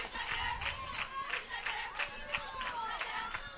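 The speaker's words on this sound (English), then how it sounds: "Cane Cougars cheering, trying to start a rally." Softball fans of the Cane Cougars cheer and clap in a steady, rhythmic burst of crowd noise, with repeated clap-like pulses and shouting spread across a few seconds, heard from some distance under a broadcast mix.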